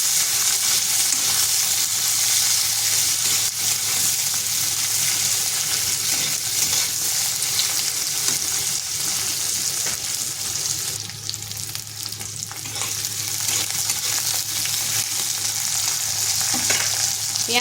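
Coarsely chopped onions fry in a pan, a dense continuous sizzle with occasional scraping stirs, close and loud with no talking.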